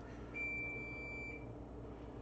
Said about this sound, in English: It's that timer I said earlier.